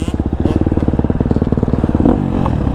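A KTM 250 SXF four-stroke dirt bike sliding on a dirt berm, the engine pulsing in rapid loud bursts, then the note breaks off into a rougher smear as the bike slides.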